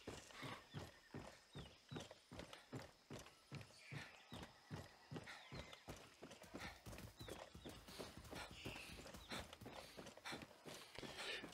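Horse hooves clip-clop in Far Cry 6 in a steady, rhythmic walking beat that stays close and clear throughout, with a whinny in the mix and no talking.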